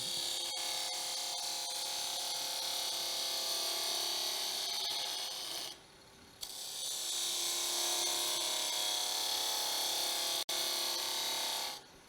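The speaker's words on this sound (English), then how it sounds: "Here we're doing a bevel riding cut into the wood, just so you can get a cleaner cut." A carving tool makes a bevel riding cut into wood, giving a continuous close rasping scrape that breaks off briefly twice before resuming.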